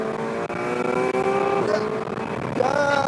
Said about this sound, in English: Now we can hear that amazing engine